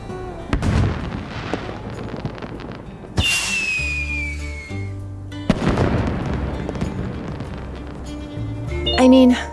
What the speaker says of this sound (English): let's see some fireworks